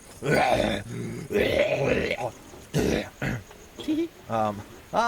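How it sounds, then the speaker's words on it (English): A deep voice of a character in the video game Legends of Eisenwald grunts and clears its throat in a series of rough, throaty rasps and growls, close and loud, with a few separate bursts. "Well, let me clear my throat."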